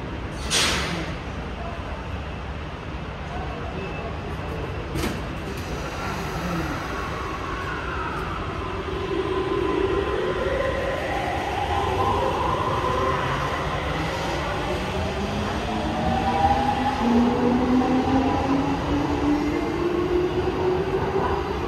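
A Tokyo subway train rumbles along steadily, wheels rising into a long metallic squeal as it runs, with a faint announcement-like voice in the background.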